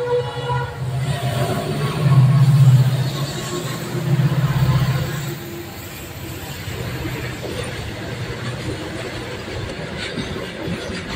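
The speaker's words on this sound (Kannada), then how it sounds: "ನೋಡಿ ಈಗ ಟ್ರೈನ್ ಬರ್ತಾ ಇದೆ." A train passes a railway level crossing, a broad low rumble that swells and then eases into a steady rolling roar of wheels on track, heard from close by with little talk.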